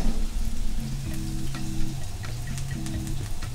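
Snapper fillet frying in a sauté pan, a steady close sizzle with faint crackles running throughout, no talking.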